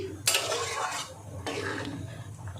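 A spoon scrapes and clatters in a pot of egg pulao cooking over a high gas flame, the lid lifted for two short bursts of metallic stirring with a faint background hum between them.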